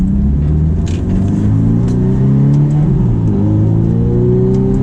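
A Ferrari F430 driven in manual mode, its engine a loud, close, continuous rumble with rising and falling pitch as it pulls through the gears, heard from inside the car without talk.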